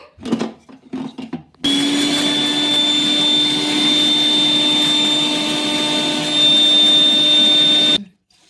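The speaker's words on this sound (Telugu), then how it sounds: "ఫస్ట్ వీటిని అయితే మిక్సీ పట్టేసుకుందాము" A mixer grinder grinding cumin and coriander seeds starts after a few handling knocks, then a loud, steady, high-pitched motor whine runs for about six seconds before stopping abruptly.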